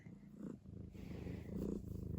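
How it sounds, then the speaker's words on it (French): A cat purrs softly and steadily up close, the low rumbling rising and falling with each breath. "Tu ronronnes."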